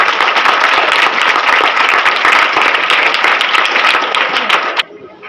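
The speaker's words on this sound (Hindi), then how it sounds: "तालियाँ।" Students at a composite school seminar clap together in a loud, close burst of dense applause that lasts about five seconds and then stops abruptly, leaving faint room sound.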